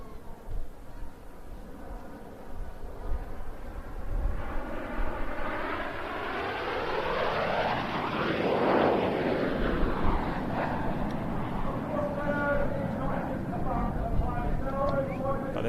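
Training aircraft fly past in Apollo formation at a seaside air festival. Engine noise swells as they approach and then recedes, with a loud sweeping pass in the middle.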